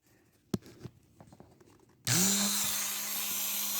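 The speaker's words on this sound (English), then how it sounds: "I'm going to start out with this Ryobi Dremel, and we're going to work on the end here." A Ryobi rotary tool starts up after a few light knocks and grinds the wooden end of a vintage sign, a loud steady high whine that holds near and constant to the end.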